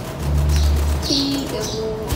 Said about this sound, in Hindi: चिड़िया चीची कर रही है।